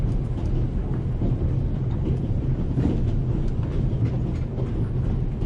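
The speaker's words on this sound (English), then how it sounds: "The noise on this train is driving me crazy." Continuous rumbling clatter of a moving train interior in the game The Raven Remastered, a dense low roar with rhythmic rattles, steady and loud, with no talking.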